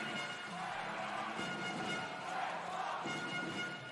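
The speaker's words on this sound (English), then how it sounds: "And listen to the crowd." A crowd cheers and roars throughout at a women's EuroLeague basketball game in the arena, a dense, steady wall of fan noise that sounds distant and fairly soft.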